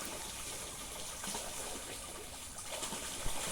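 Geese dive and splash in water, a faint continuous watery trickle and slosh with a few soft splashes, heard from a short distance.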